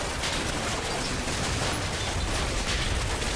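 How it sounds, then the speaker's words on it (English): Dense, continuous gunfire roars in the Combat Mission Black Sea war game, a loud unbroken fusillade of many weapons firing together without pause. "There's certainly enough firepower going out."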